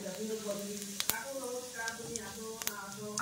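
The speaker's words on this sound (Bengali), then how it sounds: "কড়াইয়ের মধ্যে তেল দিয়ে নিয়েছি আমি, এবার জিরে দিয়ে নিলাম" Cumin seeds sizzle in hot oil in a wok, a soft steady crackle with a few sharp pops. A voice talks faintly over the frying.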